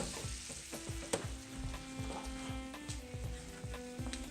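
Butter melting and sizzling in a hot frying pan over olive oil, with a steady close frying crackle, scattered spatter pops and a faint background hum throughout.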